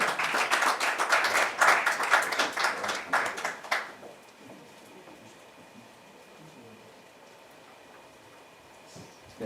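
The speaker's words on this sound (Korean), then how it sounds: "우리 권혁기 목사님 나오실 때 박수로 환영하겠습니다" A burst of applause from a church seminar audience for about four seconds, then it stops, leaving quiet room ambience.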